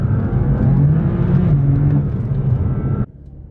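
A BMW M4 CS drives on badly worn tires, its engine droning loud and steady with a whirring road roar for about three seconds before the sound drops away abruptly to a low hum.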